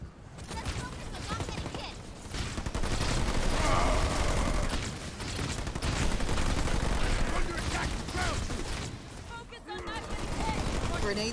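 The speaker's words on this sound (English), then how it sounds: "Receiving fire from ground troops." Ground troops trading gunfire in the video game Halo Wars 2, continuous crackling bursts of rifle and machine-gun fire with occasional booms, loud and steady, beneath spoken commentary.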